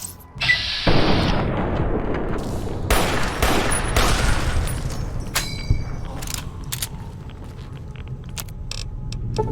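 Gunfire in Fallout: New Vegas opens with a loud, dense volley of shots, then scattered booming reports and sharp cracks that trail off into lighter, intermittent shots.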